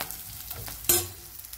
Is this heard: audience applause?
no